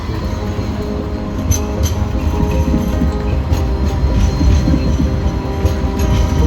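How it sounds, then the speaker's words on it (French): A Sydney tram rumbles steadily along its rails, a continuous low rolling noise with faint clicks and light metallic ticks above it. "les tramways glissent sur leurs rails"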